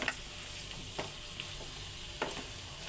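Chilli powder mixture fries in a pan with a soft, continuous sizzle, broken by a few distinct scraping stirs of a spoon at irregular intervals, quiet and close.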